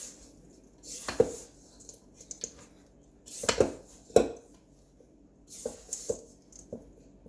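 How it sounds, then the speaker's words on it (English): A spatula stirs and scrapes thick cookie dough in a mixing bowl, giving three close bursts of dull scraping and soft knocks against the bowl with quiet pauses between. "I'm going to use my spatula to get down into the bottom of the"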